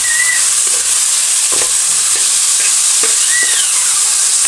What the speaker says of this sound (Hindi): और अब हम इसको अच्छी तरह फ्राई करेंगे। 1 मिनट के लिए हाई फ्लेम पे जो है वो फ्राई किया।